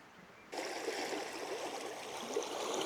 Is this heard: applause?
no